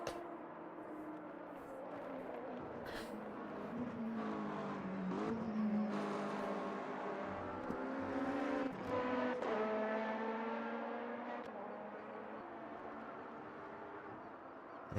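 Race cars including LMP2 prototypes in the Motor Mania racing game, engines droning and revving continuously with rising and falling pitch as they shift gears, loud and close throughout, no voices.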